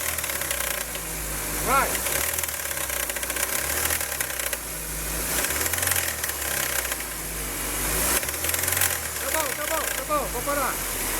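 Chevrolet Spin engine with a loud abnormal noise from the accessory belt area revs in repeated surges, rising and falling pitch with knocking, rattling texture heard up close while someone speaks briefly.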